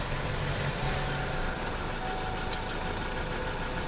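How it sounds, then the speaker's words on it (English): A car engine idling roughly after a fill-up of bad fuel at a food mart station, a steady close rumble with uneven knocking and vibration, no voices. "This is the sound of Gary Winthrop's car after filling up his tank at Smith's Food Mart in Osceola last Friday."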